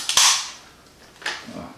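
A single sharp rifle shot from a .257 Roberts Winchester Model 70 with a heavy barrel, a loud crack that decays over a second, followed by a fainter echo or second report.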